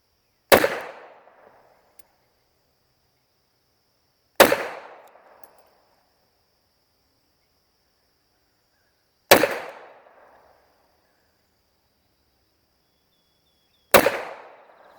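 Four single pistol shots from a SCCY CPX .380 at a firing range, each a sharp loud crack with a short decaying tail, spaced several seconds apart with silence between.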